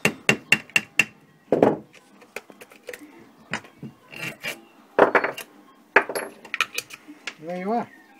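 Sharp metal taps ring out in quick bursts, hammer strikes cutting out a gasket on a small workpiece, with pauses between clusters and a few scraping sounds.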